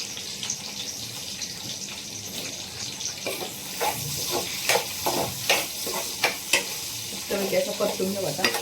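Onion stir-fried in a pan gives a steady close sizzle, with repeated spatula scrapes and clacks that grow louder and more frequent toward the end.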